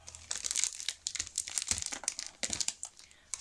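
Scrapbooking envelopes, 21.9 by 11 cm, being unwrapped from their packaging, giving a continuous close crinkling and rustling of plastic and paper with sharp crackles throughout.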